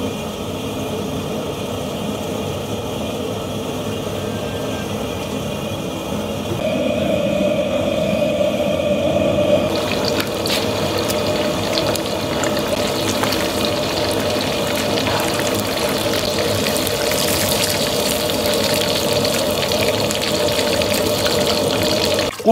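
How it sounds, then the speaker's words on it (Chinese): Water pours and gushes into a cooking pot, a continuous loud splashing stream that grows fuller and brighter partway through as the flow strengthens. "锅中加水"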